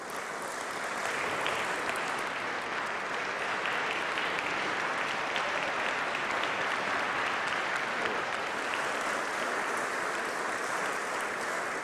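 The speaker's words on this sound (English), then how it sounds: "Graduates, please could you stand up and applaud them?" Graduates at a college graduation ceremony applaud in a sustained, even round of clapping from a large seated crowd, steady and moderately loud with no breaks.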